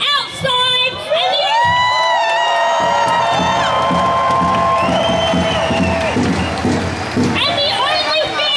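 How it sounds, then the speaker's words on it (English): A massive protest crowd packed indoors in Sydney cheers and whoops, loud and close, with high shouting voices rising and sustained over a continuous roar and scattered clapping. "there's a massive, massive crowd in here, but there's even a bigger crowd outside"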